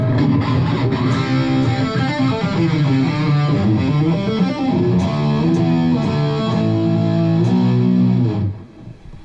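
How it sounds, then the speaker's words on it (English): An electric guitar solo plays through a Boo Overdrive, a tube-screamer-style pedal, into a Marshall-style amp: loud, distorted sustained melodic lines run steadily for about eight seconds, then cut off with a short fading tail. "and then the second half we got this Boo Overdrive, which is essentially a tube screamer,"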